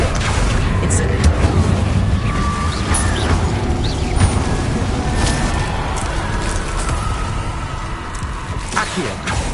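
Repeated Incendio fire spells cast in the Hogwarts Legacy video game on PS5, whooshing and booming bursts over a dense, loud wash of game effects and mechanical clatter, with a voice calling out spell names throughout.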